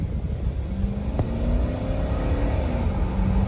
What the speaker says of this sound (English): Oh, transmission shifts perfect.